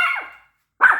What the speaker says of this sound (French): Ah oui, j'ai un petit chien.